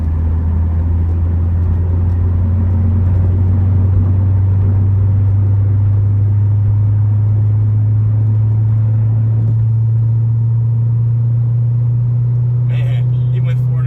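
Steady, loud engine drone from a C6 Corvette pulling hard in sixth gear toward 90 mph on a highway, its low tone climbing gradually with road rumble throughout and no talk.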